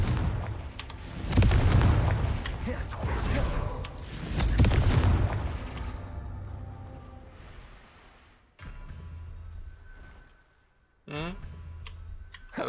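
Booming blasts from the Confringo spell in a Harry Potter video game hit twice in heavy, rumbling bursts, followed by quieter game sounds and a short sharp crackle near the end, with a voice talking throughout.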